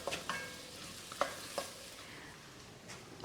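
Spices cook in a pan with a gentle, steady sizzle, broken by a few sharp clicks and scrapes of stirring, quiet and close with no voices.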